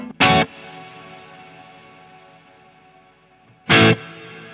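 Neunaber Immerse reverb pedal on its plate setting: two loud electric guitar strikes about three and a half seconds apart, each followed by a long smooth reverb tail that slowly decays, no talking.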